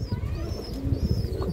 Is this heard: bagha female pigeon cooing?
yes